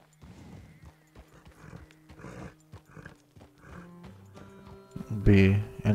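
Horse hooves clip-clop with occasional whinnies during riding in the video game Red Dead Redemption 2, with a voice talking over the game sound and a louder burst near the end.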